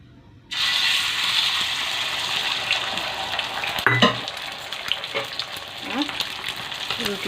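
An egg roll fries in a pan with a steady, close sizzle that starts abruptly after a short silence, broken by a few scraping and clattering touches of a utensil.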